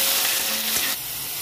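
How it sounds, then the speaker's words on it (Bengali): Snake gourd (chichinga) frying in hot oil with a little salt and turmeric, a steady close sizzle with soft stirring scrapes, no talk. "দিয়ে চিচিংয়েটা একটু ভেজে নেবো।"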